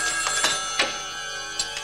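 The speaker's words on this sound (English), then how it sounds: "Let it ring. Don't answer it." A telephone rings repeatedly with a steady electronic tone and regular pulses at a moderate level. No one speaks.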